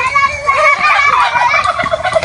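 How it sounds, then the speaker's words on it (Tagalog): Turkey gobbling near the seaside, a loud close run of warbling gobbles repeating rapidly through the whole moment, with faint background sounds beneath. "Ayan, may pabo."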